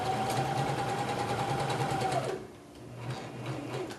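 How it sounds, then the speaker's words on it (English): A sewing machine stitches around the edge of a cloth diaper with a steady, close whir for about two seconds, then slows to a softer, uneven hum. "You'll just do a quick go around the edge, sew it together."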